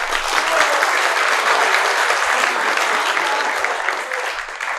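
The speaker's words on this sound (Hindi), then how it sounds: "इसमें ताली बनती थी।" Audience applause at a talk-show recording, a steady dense wash of clapping from a crowd filling the whole stretch at even loudness, with no voices over it.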